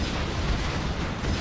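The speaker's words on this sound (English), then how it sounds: "Love the explosions and when the Scorpions actually set on fire." Explosions in the 2003 real-time strategy game Command & Conquer Generals Zero Hour, with Scorpion tanks set on fire during a battle. A dense, loud, rumbling blast fills the whole short stretch without letting up.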